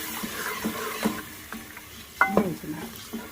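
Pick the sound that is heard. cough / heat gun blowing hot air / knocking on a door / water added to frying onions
water added to frying onions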